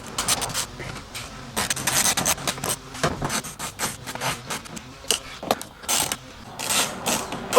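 Screws are driven and tightened while a hitch is fitted to a 2022 Tesla Model 3, a close, busy run of quick ratcheting clicks and scraping bursts in irregular clusters, with no voices.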